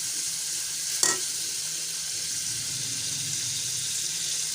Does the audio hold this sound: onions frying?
yes